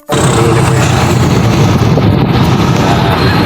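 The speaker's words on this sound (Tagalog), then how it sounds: "Nakasakay na kami sa motor." A motor tricycle carries passengers toward town, a loud steady engine roar with broad wind rumble that starts abruptly and runs unbroken, close and dominant with no voices over it.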